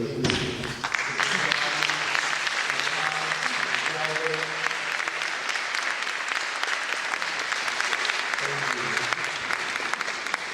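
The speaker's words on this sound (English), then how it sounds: "Could you please rise so we can give you a round of applause?" A crowd gives a long, steady round of applause for summer school staff at a high school graduation, with voices murmuring faintly underneath throughout.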